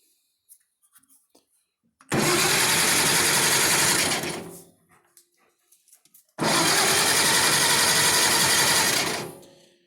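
Cub tractor engine cranking without firing because of no spark, two long sustained bursts of fast whirring, grinding starter turnover separated by a short pause, loud and close.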